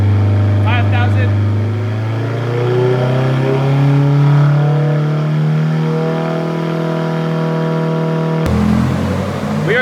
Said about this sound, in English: We are dynoing the WRX VB right now. J-pipe, downpipe, PLM, and also axle back.